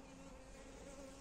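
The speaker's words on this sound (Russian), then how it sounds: "смотрю, потиху вылетают единичные пчелы" Honey bees leaving the hive on their first early-season flight, a soft continuous buzzing hum that is faint and steady throughout, with no voices.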